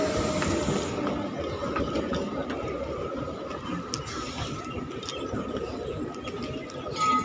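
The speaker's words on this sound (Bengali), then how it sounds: "হ্যাঁ এই ট্রেনটা পুরনো।" An old local train on the Bangaon route rolls past with a continuous, moderately loud rattling rumble and occasional sharp clicks, and no clear talk is heard.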